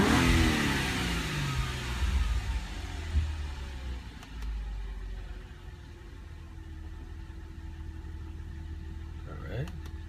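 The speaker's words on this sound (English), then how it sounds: "I was going to ask you to rev it up past 3800 RPMs" An Audi A4 engine revs up, with a loud climbing roar at the start that drops back into a steadier, fainter engine drone through the rest of the clip, without talk.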